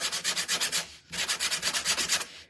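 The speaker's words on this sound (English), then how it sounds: "We'll distress with the sander." A Gator power sander distresses a wooden spring door hanger, giving a close, raspy scrubbing in quick rhythmic strokes, with a brief pause before the strokes resume.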